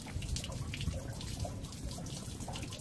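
Water steadily draining out of a Suburban RV water heater tank, a continuous close splashing trickle with irregular drips, running alone without talk.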